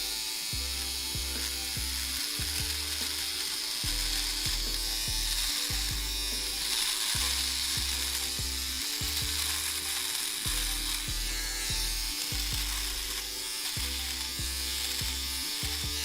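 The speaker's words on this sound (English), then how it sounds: "Yes, I'm shaving it live, of course, why not?" Electric shaver buzzing steadily up close during a live late-night show, its motor drone pulsing in repeated strokes as it moves over the skin, with no talk over it.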